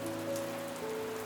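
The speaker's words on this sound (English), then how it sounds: "roofs drumming under rain" Heavy rain in Mawsynram, India, falling steadily on roofs as a dense, even hiss with no pauses, joined by faint steady hum tones in the background.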